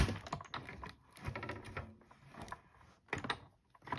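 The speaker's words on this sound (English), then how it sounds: "And then I will roll that through the die cut machine." A plate rolled through a die cut machine while making a decorative card edge, a run of close clicking, ratcheting mechanical sounds that come in uneven bursts.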